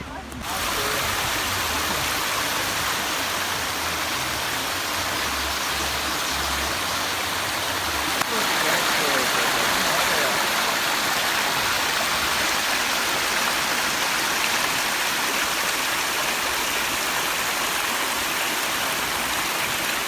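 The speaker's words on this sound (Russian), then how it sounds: "снова мы попали на Нихолоевские водопады" Water rushes steadily at the Nikhaloi waterfalls in Chechnya, a loud, continuous broadband roar and hiss that fills the whole stretch without pause, with a faint low rumble early on and voices briefly mixed in.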